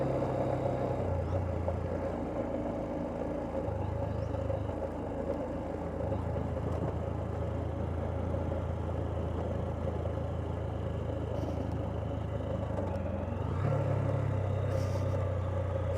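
A Honda CB125F motorcycle rides slowly along a soft bush track, its small engine giving a steady mid-pitched drone throughout, with faint changes in throttle and a little rattle over the uneven surface.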